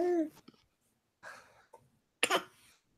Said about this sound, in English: Cough that one up.